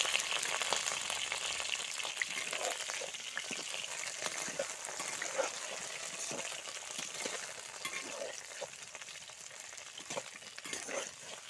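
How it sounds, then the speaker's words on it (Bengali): Eggplant pieces sizzle and spatter steadily in hot oil in a pan as they are stirred, a continuous crackling hiss with small scraping knocks of stirring, no talk. "তারপর আমি যে জলটা ছাড়িয়ে রেখেছিলাম বেগুনটা থেকে, সেই যে বেগুনটাকে কিন্তু দিয়ে দেবো তেলের মধ্যে।"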